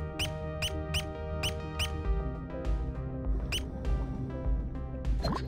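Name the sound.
squeaky sound from the video game Dave the Diver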